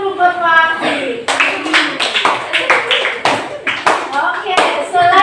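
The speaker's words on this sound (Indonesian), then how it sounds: "Tepuk tangan dulu buat Waki." A small group of schoolchildren claps hands together in a quick, uneven burst in a classroom, with a teacher's voice speaking just before.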